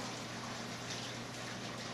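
Water runs steadily from a kitchen sink tap, a constant hissing splash with low hum that holds evenly throughout, no talking over it.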